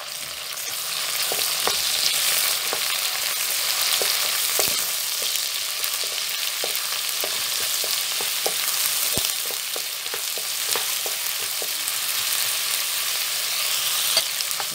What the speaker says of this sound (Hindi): अब साथ ही मैं एक टेबल स्पून अदरक लहसुन का पेस्ट इसमें डाल रहा